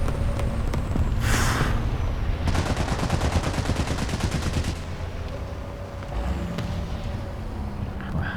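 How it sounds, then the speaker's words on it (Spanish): Rapid bursts of machine-gun fire and heavy shots ring out in a War Thunder tank battle, a dense rattling volley in the middle flanked by single reports and mechanical rumble, with no voices. "¿De dónde me están disparando?"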